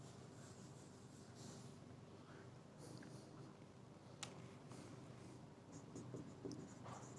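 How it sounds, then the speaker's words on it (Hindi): Faint scratching and tapping of writing on a classroom board, steady and quiet over a low room hum, with a few louder taps near the end and no talk. "मैं यहाँ बोर्ड पे लिख देता हूँ"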